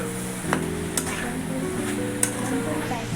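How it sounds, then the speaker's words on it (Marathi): Soaked soybeans being stirred in a frying pan, a steady close sizzle with light scraping and a few sharp utensil clicks against the pan, no talk. "आणि मग ती टाकून झाली का मस्त पैकी हलवून घेऊया."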